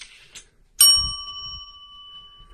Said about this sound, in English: And I have a bell here.